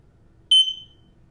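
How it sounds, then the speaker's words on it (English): A smoke detector sounds its test beep, one loud, piercing electronic tone that starts abruptly and fades over about half a second against a quiet room. "You'll hear a beep."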